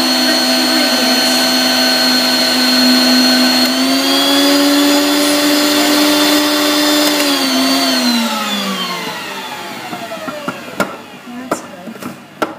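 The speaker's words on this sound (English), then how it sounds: "the mixer on and get that going right now" An electric mixer whirs loudly and steadily while beating lemon curd tart ingredients, its motor pitch dipping and winding down near the end, followed by a few light knocks.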